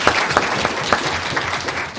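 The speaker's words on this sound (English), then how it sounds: "while your hands are still clapping" Audience at a school board meeting applauding elementary honor corps students, a steady wash of clapping from a room full of people with a few sharper individual claps standing out.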